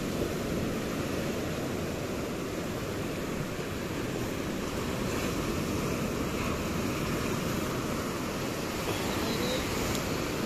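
Sea waves and a strong current make a steady, broad roar of rushing surf, continuous and fairly close without distinct breaks, with no voices over it.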